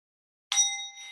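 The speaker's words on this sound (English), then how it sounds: "And then I ring the bell." A single struck bell rung to close a classroom session gives a bright ding that rings on with a clear, sustained tone and slowly fades.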